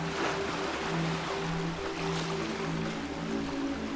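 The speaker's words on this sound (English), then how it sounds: "The beach's gentle waves and golden sands are perfect for leisurely days spent soaking in the sun." Gentle ocean waves wash onto Praia Emilia Beach in Ana Chaves Bay near São Tomé City, a steady soft surf wash with a faint low hum underneath.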